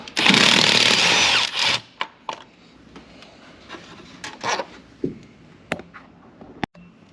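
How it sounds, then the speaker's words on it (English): A power tool loosens a 10mm bolt on a Chevy Colorado engine, a loud close whirring burst of almost two seconds, then scattered metallic clinks and rattles of tools and parts. "And take this 10mm bolt off."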